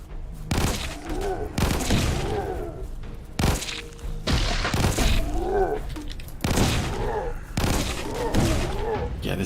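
Uzi fire from the video game HordeCore comes in several rapid automatic bursts separated by short gaps. Each burst is loud and up front, with blast and impact noise layered over the shots.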